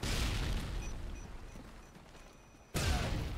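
Grenade blasts in Call of Duty: Modern Warfare 2 (2009): a loud booming burst fades into a low rumble, then a second sudden blast cuts in near the end.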